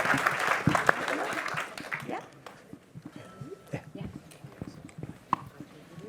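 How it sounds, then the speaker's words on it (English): Applause for a conference panel on attention fades out over the first two seconds, followed by quieter room noise with scattered small sounds and soft voices. "Round of applause for the panel."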